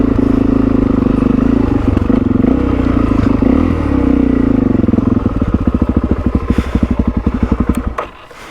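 A motorcycle engine with a carburetor fault idles roughly up close, loud and uneven with clattering throb, the pulses turning choppy and irregular before cutting off near the end, with no talk.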